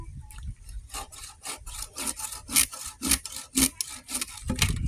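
A hand saw cuts through wood in quick, rhythmic rasping strokes, close and fairly loud, about ten strokes in a row.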